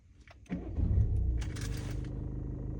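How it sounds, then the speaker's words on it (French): A Peugeot 208 BlueHDi 100 hp diesel engine cranks and catches, then settles into a steady, rumbling idle that continues close by. "Comme ça vous entendez bien le bruit du moteur."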